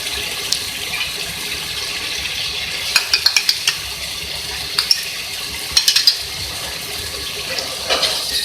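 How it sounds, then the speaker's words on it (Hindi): Meat with yogurt sizzling and frying in a pot for aloo gosht, a steady moderate hiss with a few sharp clinks of a spoon against the pot scattered through. "दही को डाल के मैंने इसको अच्छे से भुनाई की"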